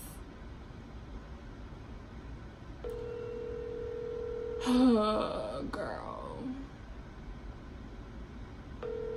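A phone call placed to a girl, with a steady ringback tone starting partway through, then a short burst of connection tones and a voice answering, all over constant background hiss.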